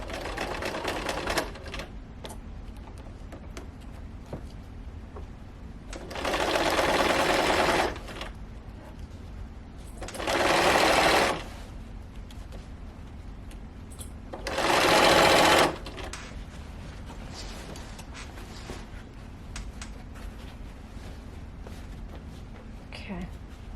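Sewing machine stitches sofa slipcover fabric in three separate loud whirring runs of a few seconds each, close by, with quiet handling and brief talk in the gaps.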